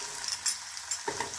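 Ginger and garlic paste sizzling in hot oil in a pan, a steady soft crackle with a few stirring scrapes and a brief louder burst near the end, no talking.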